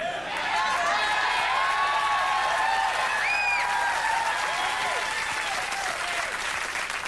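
A studio audience at a late-night talk show applauds steadily and loudly throughout, with some whoops and chatter mixed into the clapping.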